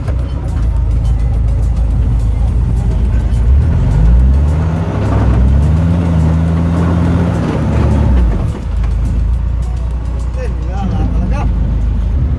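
A truck stuck in lahar near Mt. Pinatubo revs its engine in rising and falling surges, loud and close, while people talk and laugh over it.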